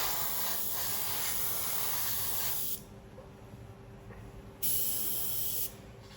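An airbrush sprays paint onto a 1/48 Eduard Sabre model kit, in two close, steady hissing bursts with a quieter background hiss between them, and no talk.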